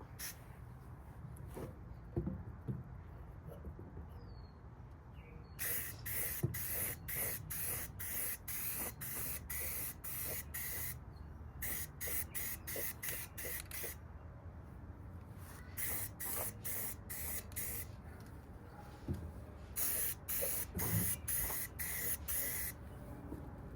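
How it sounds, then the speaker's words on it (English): Repeated bursts of aerosol spray hiss, short and long, as Kawasaki KE175 motorcycle parts are painted, start and stop throughout, close by, with quiet pauses and faint handling noises between them. "So let's get all of them sprayed. Spray the first coat."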